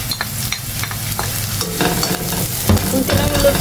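Onion and garlic sauté in a hot pan with a continuous sizzle, broken by scraping and clinking as they are stirred, close and fairly loud, with no speech.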